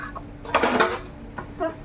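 Cooking pots and metal vessels knocked and shifted in a home kitchen during Ramadan, a few brief clanks and scrapes at close range with no talk.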